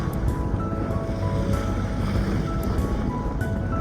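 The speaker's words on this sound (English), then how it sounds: "so we're just motor sailing for a little bit" A sailboat motor sailing among islands, engine drone and water wash steady and loud throughout, with waves slapping the hull now and then.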